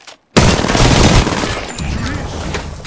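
Loud, close gunfire in Apex Legends, a sharp onset followed by a sustained rapid burst of shots with echoing tails.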